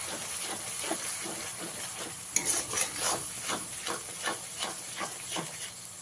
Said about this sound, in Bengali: আদা রসুন বাটাটা দিয়ে খুব ভালো করে ভেজে নিতে হবে